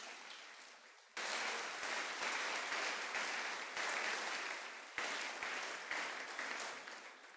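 A church congregation breaks into loud, sustained applause after a short quiet lead-in, with the clapping swelling to fill the room and holding steady to the end.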